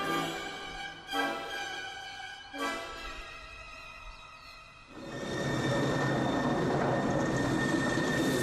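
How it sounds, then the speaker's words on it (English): Rack railway train in the Bavarian-Swabia hills: two brief horn-like tonal bursts over a low hum, then a loud, steady broadband rumble and hiss as the train runs close by, with no talking. "This ain't a normal train. This is a rack railway."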